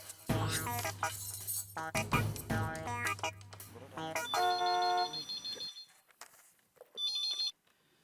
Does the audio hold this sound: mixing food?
no